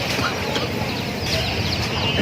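Colourful dyed chicks and ducklings peep and chirp together in a steady, close chorus, with a person talking over them.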